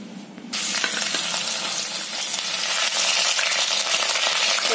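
Spices, curry leaves and onion dropped into hot oil for a mixed vegetable bhaji, bursting into a loud, dense sizzle that holds steady and close while a spoon stirs, with no voice.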